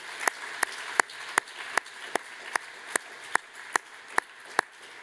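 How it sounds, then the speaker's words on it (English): Audience applause after a plenary talk at a conference, with a steady run of sharp, regularly spaced claps standing out over a soft, continuous wash of clapping from the room. "Let's give Marco another huge applause."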